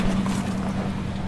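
A 1970 Buick Skylark with two generic mufflers rumbles steadily from inside the car while driving, a low constant exhaust drone with wind and road noise over it and no one talking.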